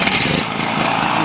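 Generac portable generator engine running steadily, a loud, close, continuous small-engine drone with a buzzing rasp and no talk over it.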